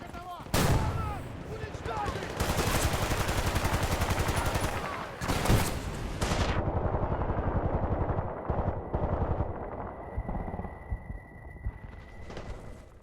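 Light machine gun bursts in the shooter game Battlefield Bad Company 2 in a village setting: loud, rapid sustained automatic fire with sharp blasts and brief pauses, fading to scattered shots and a high ringing tone.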